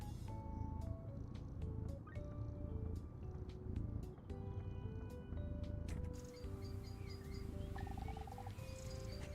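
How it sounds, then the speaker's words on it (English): A cat purrs and meows in the video game The Last Gas Station, heard steadily under a dense, continuous bed of other game sounds, with no talking. "It's a kitty."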